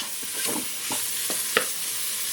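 Chipolata sausages seasoned with turmeric browning in a pan, a steady close sizzle with a few scraping stirs and light clicks of a utensil on the pan.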